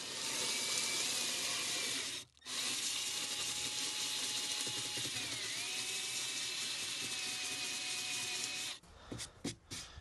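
A 3-inch sanding pad on a power tool works over a painted surface with a steady, loud whirring grind that runs nearly continuously, pausing briefly once and then cutting off into a few short bursts near the end.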